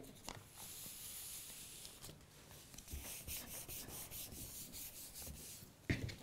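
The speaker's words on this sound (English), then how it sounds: "keep pulling that away and rubbing down, and all you're doing is you're adhering the PVC onto the fabric" Close, quiet rubbing as PVC sheet is pressed and smoothed down onto lampshade fabric, a continuous soft hissing friction with light crinkles and faint ticks, one brief louder rustle near the end, no voices.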